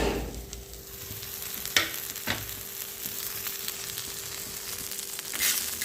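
Eggplant for neem begun frying in a pan makes a steady, moderate sizzle with a couple of sharp stirring clacks partway through, and no voices.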